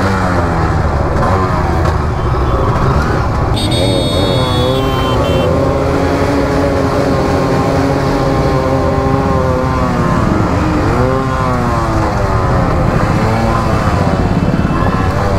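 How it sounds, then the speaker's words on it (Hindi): Motorcycles at a Republic Day bike rally of more than forty bikers setting off one by one, engines revving and rising in pitch as each pulls away, loud and close with overlapping passes. "ये देखिए सारे जो राइडर्स है अभी रेडी हो चुके हैं, एक एक करके सब निकल रहे हैं यहाँ से अभी"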